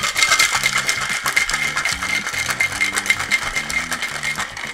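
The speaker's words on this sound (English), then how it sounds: "You just want to give it a gentle shake, or else you're going to get ice chips in your drink" A cocktail shaker filled with ice, shaken gently while mixing a Brandy Alexander, gives a steady, close rattling clatter of ice against metal that continues throughout.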